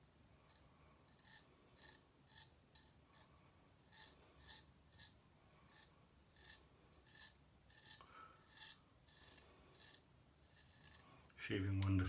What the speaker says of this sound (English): Shaving wonderfully.